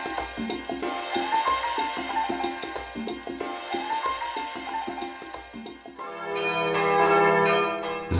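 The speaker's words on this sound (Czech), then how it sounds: "Z věží katedrály na Petrově ohlašují zvony poledne o hodinu dříve." Cathedral bells on Petrov hill in Brno ring out at noon, repeated rich metallic strikes overlapping in a lively peal, then a sustained, swelling chord of several bells humming together near the end.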